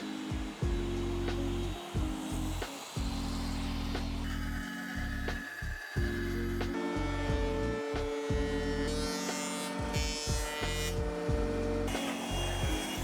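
A planer thicknesses maple and walnut boards, its motor droning steadily while repeated loud, rasping cutting passes start and stop in a rough rhythm, close by with no talking.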